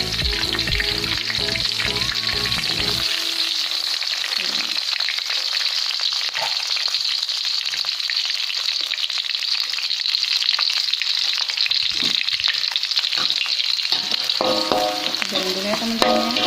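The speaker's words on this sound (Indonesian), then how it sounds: "kita goreng bawang yang sudah kita iris tadi" Sliced shallots fry in hot cooking oil, giving a loud, steady, dense sizzle throughout, with occasional stirring clinks and scraping and faint background tones near the start and end.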